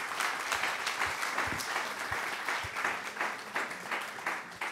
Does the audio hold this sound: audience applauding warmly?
yes